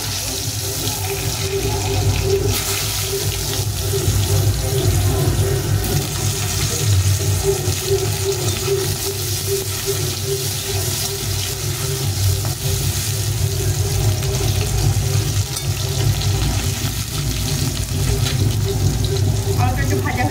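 Sliced potatoes frying in oil in a pan, a steady loud hiss and crackle running unbroken throughout with a faint hum beneath.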